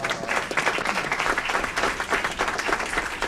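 A room of attendees at an Aurora city council committee meeting applauds the city's Asian American community and its new heritage advisory board, a dense, continuous patter of many hands at moderate volume.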